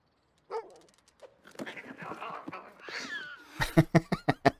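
A cartoon dog in the puzzle adventure game Lost in Play lets out a run of short, sharp barks and whimpers near the end, following scattered game effects and soft vocal sounds.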